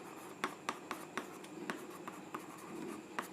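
A pen scratches across paper in short, distinct strokes, about a dozen taps and scrapes in an irregular rhythm, close and quiet.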